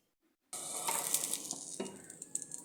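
Egg-soaked bread frying in ghee in a pan: silence, then a sudden loud sizzle that carries on with crackling pops and a few small clinks.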